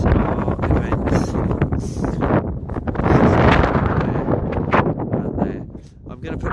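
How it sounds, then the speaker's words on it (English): Wind gusts roar and buffet the microphone at a mountain summit, loud and broadband throughout, rising and falling in strength. "It's already beginning to get a little bit windy."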